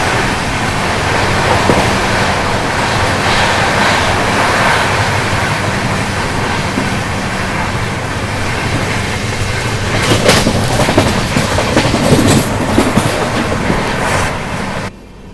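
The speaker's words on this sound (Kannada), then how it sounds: "Overtaking Saurashtra Express" A Humsafar Express train at speed passes the Saurashtra Express, giving a sustained rolling roar with clickety-clack wheel beats and bursts of sharper rattling near the end, heard alone without speech.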